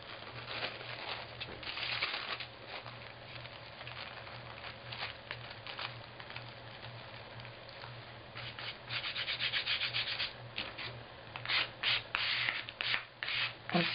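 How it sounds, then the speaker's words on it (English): A plastic card drawn across a thin layer of adhesive on a junk journal folio, smoothing it out in soft repeated rubbing and scraping strokes, close and fairly quiet, alone with no talk. "I'm smoothing it out with the clean side of the card."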